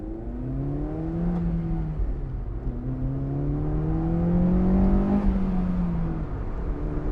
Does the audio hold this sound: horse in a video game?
no